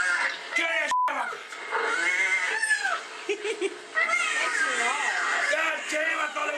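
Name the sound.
recorded cat sounds played as a prank alarm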